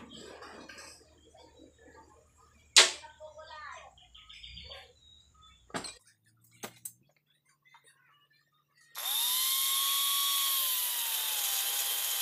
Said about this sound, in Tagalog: pinadaanan ko ng grinder para malaman ko